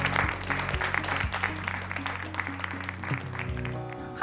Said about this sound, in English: Everybody make some noise for Connor Wright.